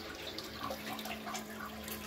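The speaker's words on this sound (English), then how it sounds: "you see the water coming into the pan" Water runs into the pan of a Qualitas Versailles close coupled toilet from around 2002, a steady, faint rushing hiss of refill flow with no talking over it.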